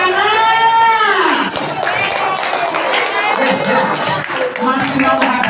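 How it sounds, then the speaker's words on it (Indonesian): Children at an Islamic storytelling session clap their hands amid lively chatter and shouting voices, the clapping scattered and mixed with movement and talk rather than standing alone. "Tepuk tangan."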